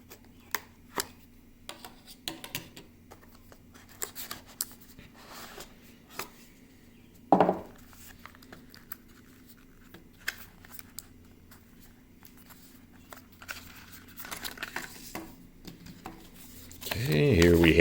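Cutting open a bubble envelope package holding an nVidia Shield remote control: scattered crinkling and snipping clicks, one sharper rip midway and a louder burst of rustling plastic at the end, with a steady hum underneath.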